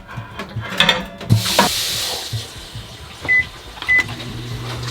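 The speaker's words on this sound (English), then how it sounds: "They never really got hot, and so we ended up just microwaving them." A microwave oven heating mozzarella sticks, with a clunk of the door and a whirring hum, then several short electronic beeps near the end.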